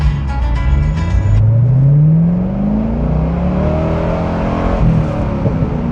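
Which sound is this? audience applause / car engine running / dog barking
car engine running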